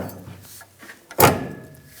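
Rear shock absorber on a 1999-2006 Chevrolet Silverado 1500 slides free of its mount, giving a single solid metallic clunk near the end after a few faint handling knocks.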